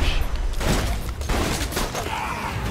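Dense gunfire in Borderlands 2 co-op play, a loud sustained fusillade of overlapping shots and booms that keeps going for the whole stretch, with no voices.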